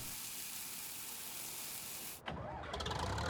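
A truck engine in the video game Farming Simulator 19 cranks over a steady hiss, then catches with a brief dip and settles into a close, loud, rough idle.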